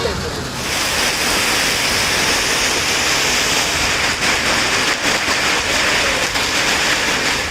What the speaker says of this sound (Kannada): ನಗರದಲ್ಲಿಂದು ಸಂಜೆ ಆಲಿಕಲ್ಲು ಸಹಿತ ಮಳೆ ಸುರಿಯಿತು.